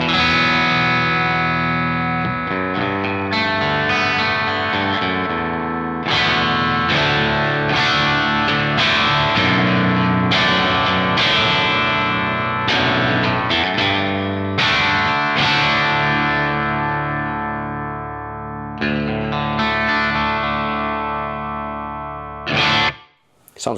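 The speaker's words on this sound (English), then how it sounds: "I have a JCM 800 type patch or rig on my quad Cortex, and this is just the bridge pickup here in a clean setting" Harley Benton JA baritone guitar with P90 pickups, played on the bridge pickup through a JCM 800 style amp patch on a Quad Cortex, rings out in loud sustained chords and riffs with effects and light distortion, alone and without talk.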